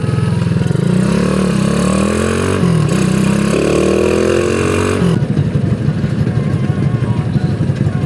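A Vega R motorcycle with a bored-up engine runs loud and close while riding, its pitch rising and falling through several throttle changes, then settling into a rougher steady drone.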